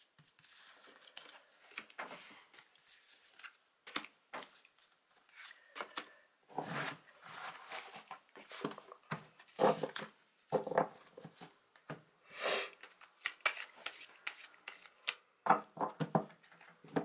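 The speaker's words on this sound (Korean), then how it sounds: "2번 연락올 셔플 들어가겠습니다" Tarot cards are shuffled by hand, giving irregular bursts of riffling, slapping and sliding card sounds, close and fairly quiet, with no talking.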